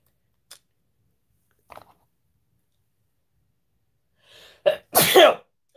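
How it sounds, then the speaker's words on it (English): A single sharp human sneeze bursts out near the end after a couple of faint sniffs and a quiet inhale, close and loud against otherwise near silence. "I got another sneeze coming on"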